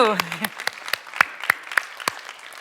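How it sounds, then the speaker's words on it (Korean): A brief voice at the start, then a handful of sharp, separate claps ringing out at an uneven pace, as if from only a few people, at an Easter church service. "우리 열심히 부흥합시다. 네, 박수."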